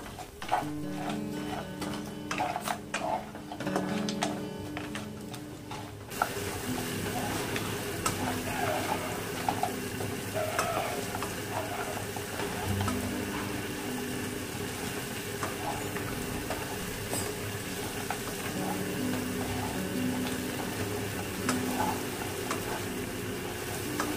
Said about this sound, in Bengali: কাঁকড়াটাকেও খুব ভালোভাবে কষে নিতে হবে।